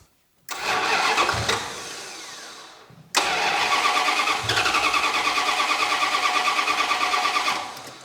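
A turbocharged V8 police car with EFI, an intercooler and a custom exhaust cranks in two bursts. The starter whirs with a fast rhythmic chug, pauses briefly, then cranks again for several seconds.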